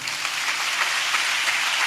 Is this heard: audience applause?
yes